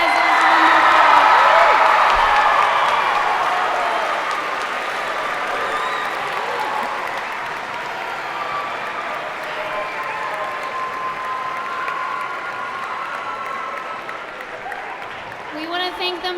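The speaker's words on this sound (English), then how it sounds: "can you guys please give Ryan and Ray another round of applause?" Sustained audience applause after a science lecture, loudest in the first few seconds and then settling into steady clapping with some cheering throughout.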